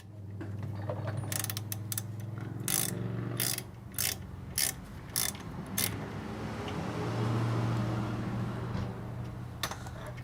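A wrench loosens a tight brake caliper bolt on a Subaru WRX. A series of sharp ratcheting clicks sits over a low steady hum, fairly close and moderately quiet, with no one talking.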